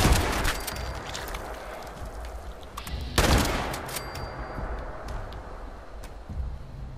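Shotgun blasts in the video game Fallout 76, two heavy booms about three seconds apart, each trailing into a rumbling, noisy tail.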